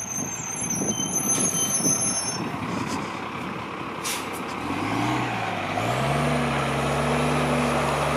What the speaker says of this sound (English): Here comes another 71 bus.